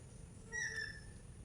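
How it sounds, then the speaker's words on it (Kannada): An Asian koel in a garden gives one brief, faint, whistled call midway through an otherwise quiet stretch of outdoor ambience. "ನೋಡಿ ಹೆಂಗೆ ಕೂಗ್ತಾ ಇದ್ದು. ಕೋಗಿಲೆ"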